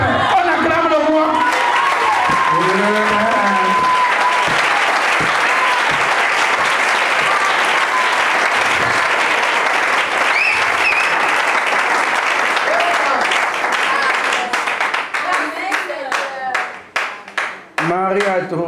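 A church congregation bursts into sustained loud applause acclaiming the king, dense clapping filling the room with cheering voices mixed in, then thinning into scattered claps at the end.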